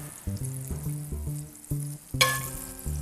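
Egg batter frying in butter in a hot pan while making a shrimp butter fried noodle omelette roll, a steady close sizzle with a few clinks of utensils.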